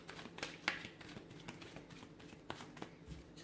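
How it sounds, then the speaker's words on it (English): A deck of tarot cards is shuffled close up in a quiet room, producing soft, irregular riffling and tapping clicks with a few sharper snaps. "Let me give the cards a shuffle here."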